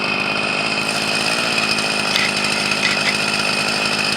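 Husqvarna 44 chainsaw running steadily while cutting through a tree, a loud, continuous high-pitched engine whine with slight rises and dips in pitch, close by and alone with no voices.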